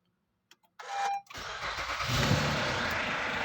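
A 2014 Honda Accord V6 cranks and fires on a cold start, a short starter whir giving way to a loud, rough, steady idle with a knocking engine fault, close up and with no talk.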